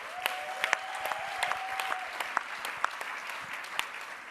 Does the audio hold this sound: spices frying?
no